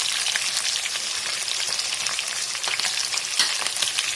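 Cumin seeds frying in hot oil give a dense, continuous hissing sizzle with fine crackles throughout, steady and close with no talk.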